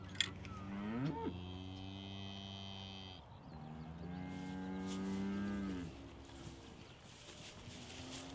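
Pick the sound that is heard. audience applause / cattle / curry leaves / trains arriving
cattle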